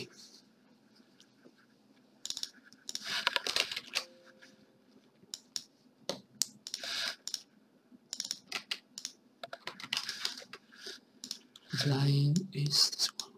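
Bursts of rapid clicking on a computer keyboard, close and quiet, coming in several irregular runs separated by pauses.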